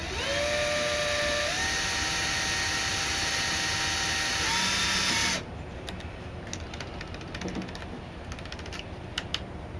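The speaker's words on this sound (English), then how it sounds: "I'm going to take a really small drill bit. I'm going to drill a couple of small holes down here" A small drill bit whines steadily at high speed as it bores a couple of small holes into a 1999 Subaru Legacy's plastic light housing, loud and continuous for about five seconds before cutting off to quiet.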